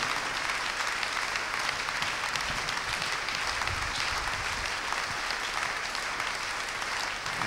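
A church congregation applauds to welcome the pastor, a dense, sustained roar of many hands clapping at close range with no voices over it.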